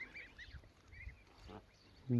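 Geese honk faintly in the distance, a few short nasal calls over a low background hum.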